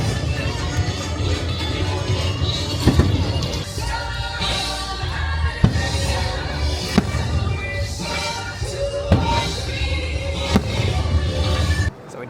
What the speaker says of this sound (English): So we just finished the fireworks.